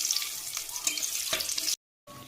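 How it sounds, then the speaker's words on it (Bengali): Whole spices, dried red chilies and bay leaf crackle and hiss in hot oil, a bright close sizzle that cuts to silence for a moment before resuming. "তেল গরম হয়ে গেছে, তেলে ফোড়ন দেবো।"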